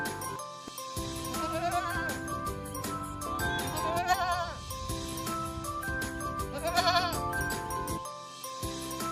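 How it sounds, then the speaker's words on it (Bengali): Several wavering goat bleats ring out over a cheerful musical backing, rising and falling in short repeated cries. "ছয় ছাগল ছানা লাফিয়ে চলে।"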